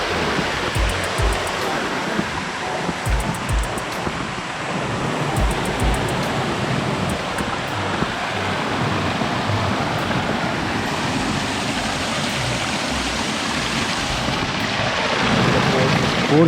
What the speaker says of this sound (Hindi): फोर्स देखो पानी का